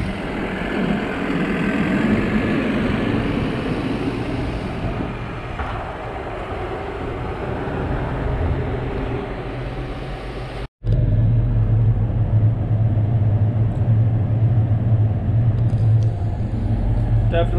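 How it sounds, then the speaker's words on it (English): A forage chopper harvesting corn silage drones steadily with a heavy engine rumble, dropping out for an instant before a louder, deeper machine hum resumes. "Chopper doesn't really stop at all."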